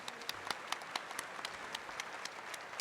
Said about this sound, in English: please give a great applause to the panelists here today